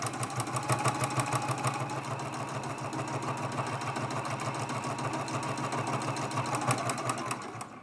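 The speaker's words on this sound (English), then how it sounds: "I'll do a couple back stitches" A sewing machine stitching a fabric mug rug, a fast, even mechanical whir with quick regular needle ticks running steadily throughout, close and alone.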